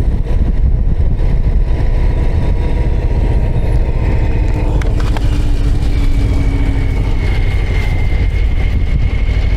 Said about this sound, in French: Le moteur est jouissif aussi.